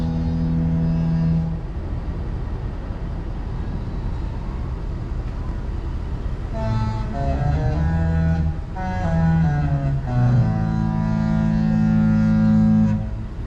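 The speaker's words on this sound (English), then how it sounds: "the Disney boats playing their horns when they come out of the port" Deep Disney cruise ship horns play a slow melody of long, sustained notes while leaving port, over a low, steady rumble, carrying from a distance.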